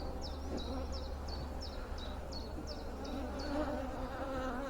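Honey bees buzz around an open hive during an inspection, a steady close hum with repeated chirping calls from the bees.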